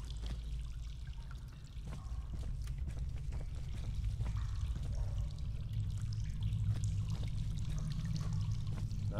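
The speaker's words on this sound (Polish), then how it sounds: "Tu zaś woda znowu." Water pours and trickles steadily in the horror game Husk, a continuous low rushing stream that stays fairly quiet.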